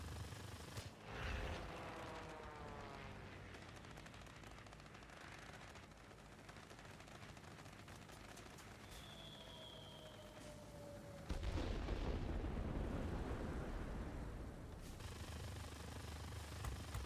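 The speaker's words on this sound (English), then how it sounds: "Who's shooting at me?" Aircraft guns fire in World of Warplanes, rapid bursts of machine-gun rattle over a constant engine drone, with a heavier, louder stretch of firing and impacts late on.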